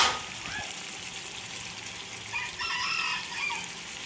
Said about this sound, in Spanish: Oigan los el canto del gallo.